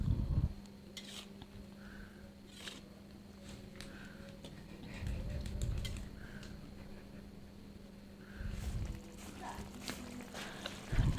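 Seblak cooks in a pan with soft scraping and stirring, light clinks of utensils against the pan and a steady low hum, with stirring bursts swelling at intervals and a quiet voice now and then.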